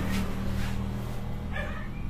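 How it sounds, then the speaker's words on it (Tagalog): Dog barking and yipping somewhere near a family home, short barks over a steady low background hum, loud and continuous throughout, no talking. "Uy, may aso."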